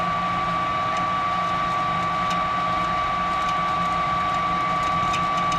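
A newly installed furnace blower runs as a constant whirring hum with a steady tonal whine, moderately loud and unbroken, with no voices.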